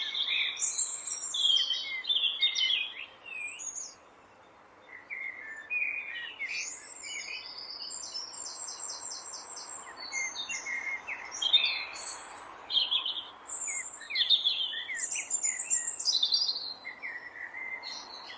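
Several wild birds chirp and call in Kenyan bush, with overlapping bright twittering phrases throughout at moderate distance.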